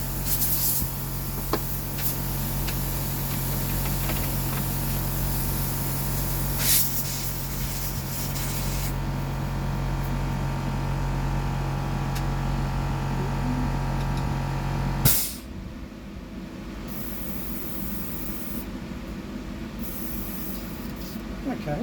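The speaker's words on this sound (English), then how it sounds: "I'll go down to the smaller airbrush." An airbrush sprays paint onto a dark fishing lure for big bass with a steady, close hiss lasting about fifteen seconds. The spray then cuts off abruptly, leaving quieter room sound.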